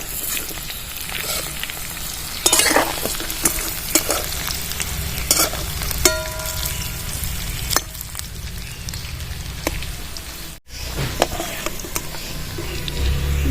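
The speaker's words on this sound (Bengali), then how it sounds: "লো টু মিডিয়ামে জালটা রাখবেন পকোড়াটা তাহলে ভেতর থেকে ভালো করে ভাজা হয়ে যাবে" Cauliflower pakoras deep frying in hot oil over low-to-medium heat, a dense continuous crackling sizzle with sharp pops and scrapes of a utensil, close and fairly loud, without talk.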